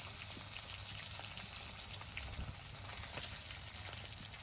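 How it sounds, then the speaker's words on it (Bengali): Spices sizzle and crackle steadily as they fry in a pan during village-style Bengali cooking, a dense, continuous hiss with fine popping, fairly faint and without talk. "এই দেখো একেবারে আমি মশলাকে ভাইজা নিতেছি"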